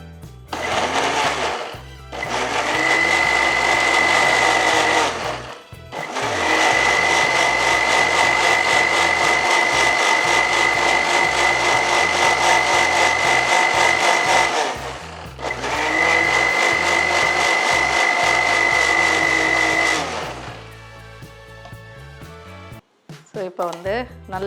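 A blender whirs through muskmelon and milk in three long, loud, steady bursts with short pauses, its motor whining at a constant pitch.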